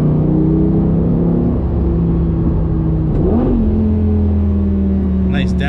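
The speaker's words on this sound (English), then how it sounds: "Nice downshift. Super aggressive." A 2007 Lamborghini Gallardo 5.0L V10 coupe drones steadily from inside the cabin, then gives one sharp rev blip on a downshift before settling back to a steady engine hum.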